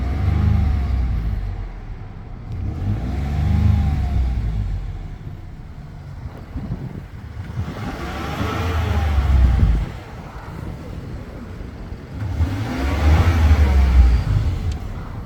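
Engine of a 2017 Ford Expedition EL Platinum with 155k miles revved in three rising and falling pulls from idle, a deep throaty rumble with some wind noise between revs.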